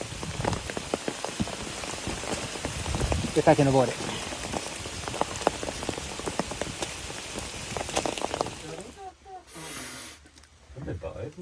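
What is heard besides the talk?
rain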